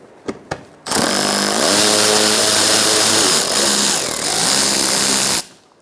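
Two quick clicks, then a power tool fitted with an 8mm socket whines loudly and continuously for about four and a half seconds, its pitch rising and dipping as it backs out inner fender liner bolts on a 2004-2009 Mazda 3 2.3L.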